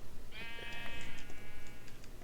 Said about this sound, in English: Let's continue harvesting sheep whenever I pass them until I run out of shears.